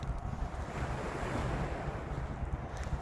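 Surf breaking on a beach at sunrise, a steady wash of waves close by with wind buffeting the microphone throughout, no voices.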